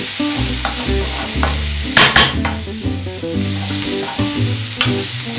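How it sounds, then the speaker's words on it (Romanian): Carrots, onion and garlic braising gently in a pan for stuffed peppers, a steady loud sizzle with repeated stirring scrapes and a couple of sharp utensil clinks near the middle, no talk. "înăbușim morcovul, ceapa cu usturoiul puțin, nu le prăjim"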